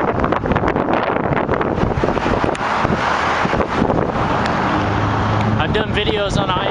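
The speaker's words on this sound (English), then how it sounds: "it is windy today, so bear with me" Strong wind buffets a microphone on the shoulder of a highway beside a parked 2007 Lexus IS250, a loud rumbling, gusting roar with traffic passing, and someone speaking over it almost continuously.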